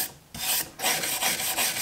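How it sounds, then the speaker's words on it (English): A soft wire brush scrubs charred shou sugi ban wood in several rhythmic, rasping strokes, close and loud, with short gaps between passes. "if we switch this half to the soft wire brush, and pull this back,"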